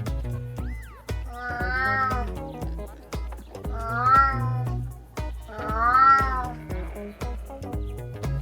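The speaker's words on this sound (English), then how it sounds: "cat." Several cat meows, repeated and drawn out, rising and falling, loud and close, with a steady musical backing underneath.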